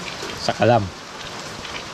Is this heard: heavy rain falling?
yes